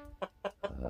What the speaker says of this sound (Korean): 집집마다 또 닭을 키워서